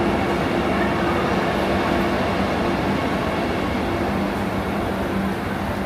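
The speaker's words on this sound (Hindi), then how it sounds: "ये आ गई भाई हमारी ट्रेन।" Passenger train pulling into a railway station platform before a 2-tier sleeper journey toward Surat, a steady loud rumble of wheels and carriages close by, continuous throughout without talk.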